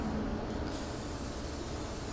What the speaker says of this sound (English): We're actually going to use a little cooking spray.